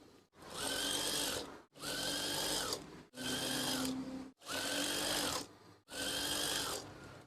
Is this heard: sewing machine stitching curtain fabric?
yes